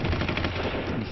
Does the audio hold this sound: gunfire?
yes